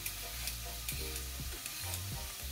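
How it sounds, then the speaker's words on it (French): Onions fry in oil in a pan, giving a steady, quiet sizzle with occasional stirring scrapes and clinks, no voices present. "Pendant que les oignons sont en train de revenir dans l'huile"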